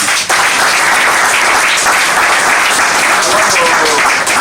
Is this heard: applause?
yes